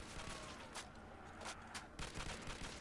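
Rapid G3 rifle gunfire in a zombie shooter game, a dense continuous burst of loud shots with little pause across the whole stretch.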